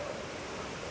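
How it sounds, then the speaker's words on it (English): A waterfall in the courtyard of Longshan Temple in Taipei gives off a steady, continuous rush of falling water, moderately loud and unbroken, with no talk over it. "It has this waterfall over here"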